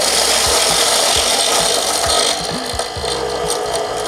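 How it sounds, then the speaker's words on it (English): Electric coffee grinder grinding coffee beans, a dense, loud, steady whirring buzz throughout with gritty rattling of beans, easing slightly partway through as the grounds get finer. "Start the grinder."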